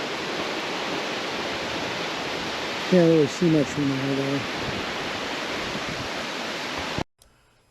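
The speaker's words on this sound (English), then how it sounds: "top of the waterfall to the sacred pools." A waterfall above the sacred pools at ʻOheʻo Gulch on Maui roars as a steady broadband rush, with a brief spoken remark partway through before the sound cuts off abruptly near the end.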